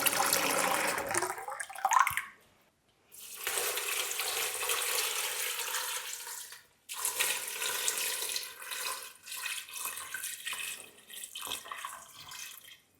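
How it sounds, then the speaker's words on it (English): Water from a tap poured into a pan of chopped medlars, a close, steady gushing stream in several bursts separated by brief pauses. "now I'm going to add about 2 litres or so of water so that the medlars are covered"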